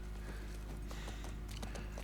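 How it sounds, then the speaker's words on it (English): Horse hooves clip-clop in a steady walking rhythm across a college campus in The Last of Us, set against a loud low ambient drone. "I imagine not a lot of horses get ridden through this campus"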